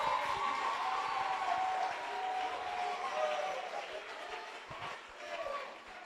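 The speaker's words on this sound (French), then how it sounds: "vous pouvez applaudir encore une fois de plus pour les amis" Audience applause at a school peace and cohesion event, steady broadband clapping that continues for several seconds, with some voices mixed in underneath.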